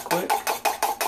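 Egg yolks whisked with simmered water in a bowl for eggs Benedict, five or six quick scraping whisk strokes in an even rhythm, close up and alone.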